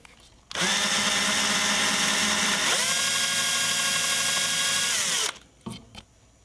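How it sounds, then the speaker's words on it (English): A power drill spins a 1/16 inch Harbor Freight machine bit into a Hot Wheels Redline 1968 Deora diecast car under restoration. It gives about five seconds of loud, steady high whine whose pitch drops partway through, then it stops abruptly. "Found these 16th inch machine bits from Harbor Freight"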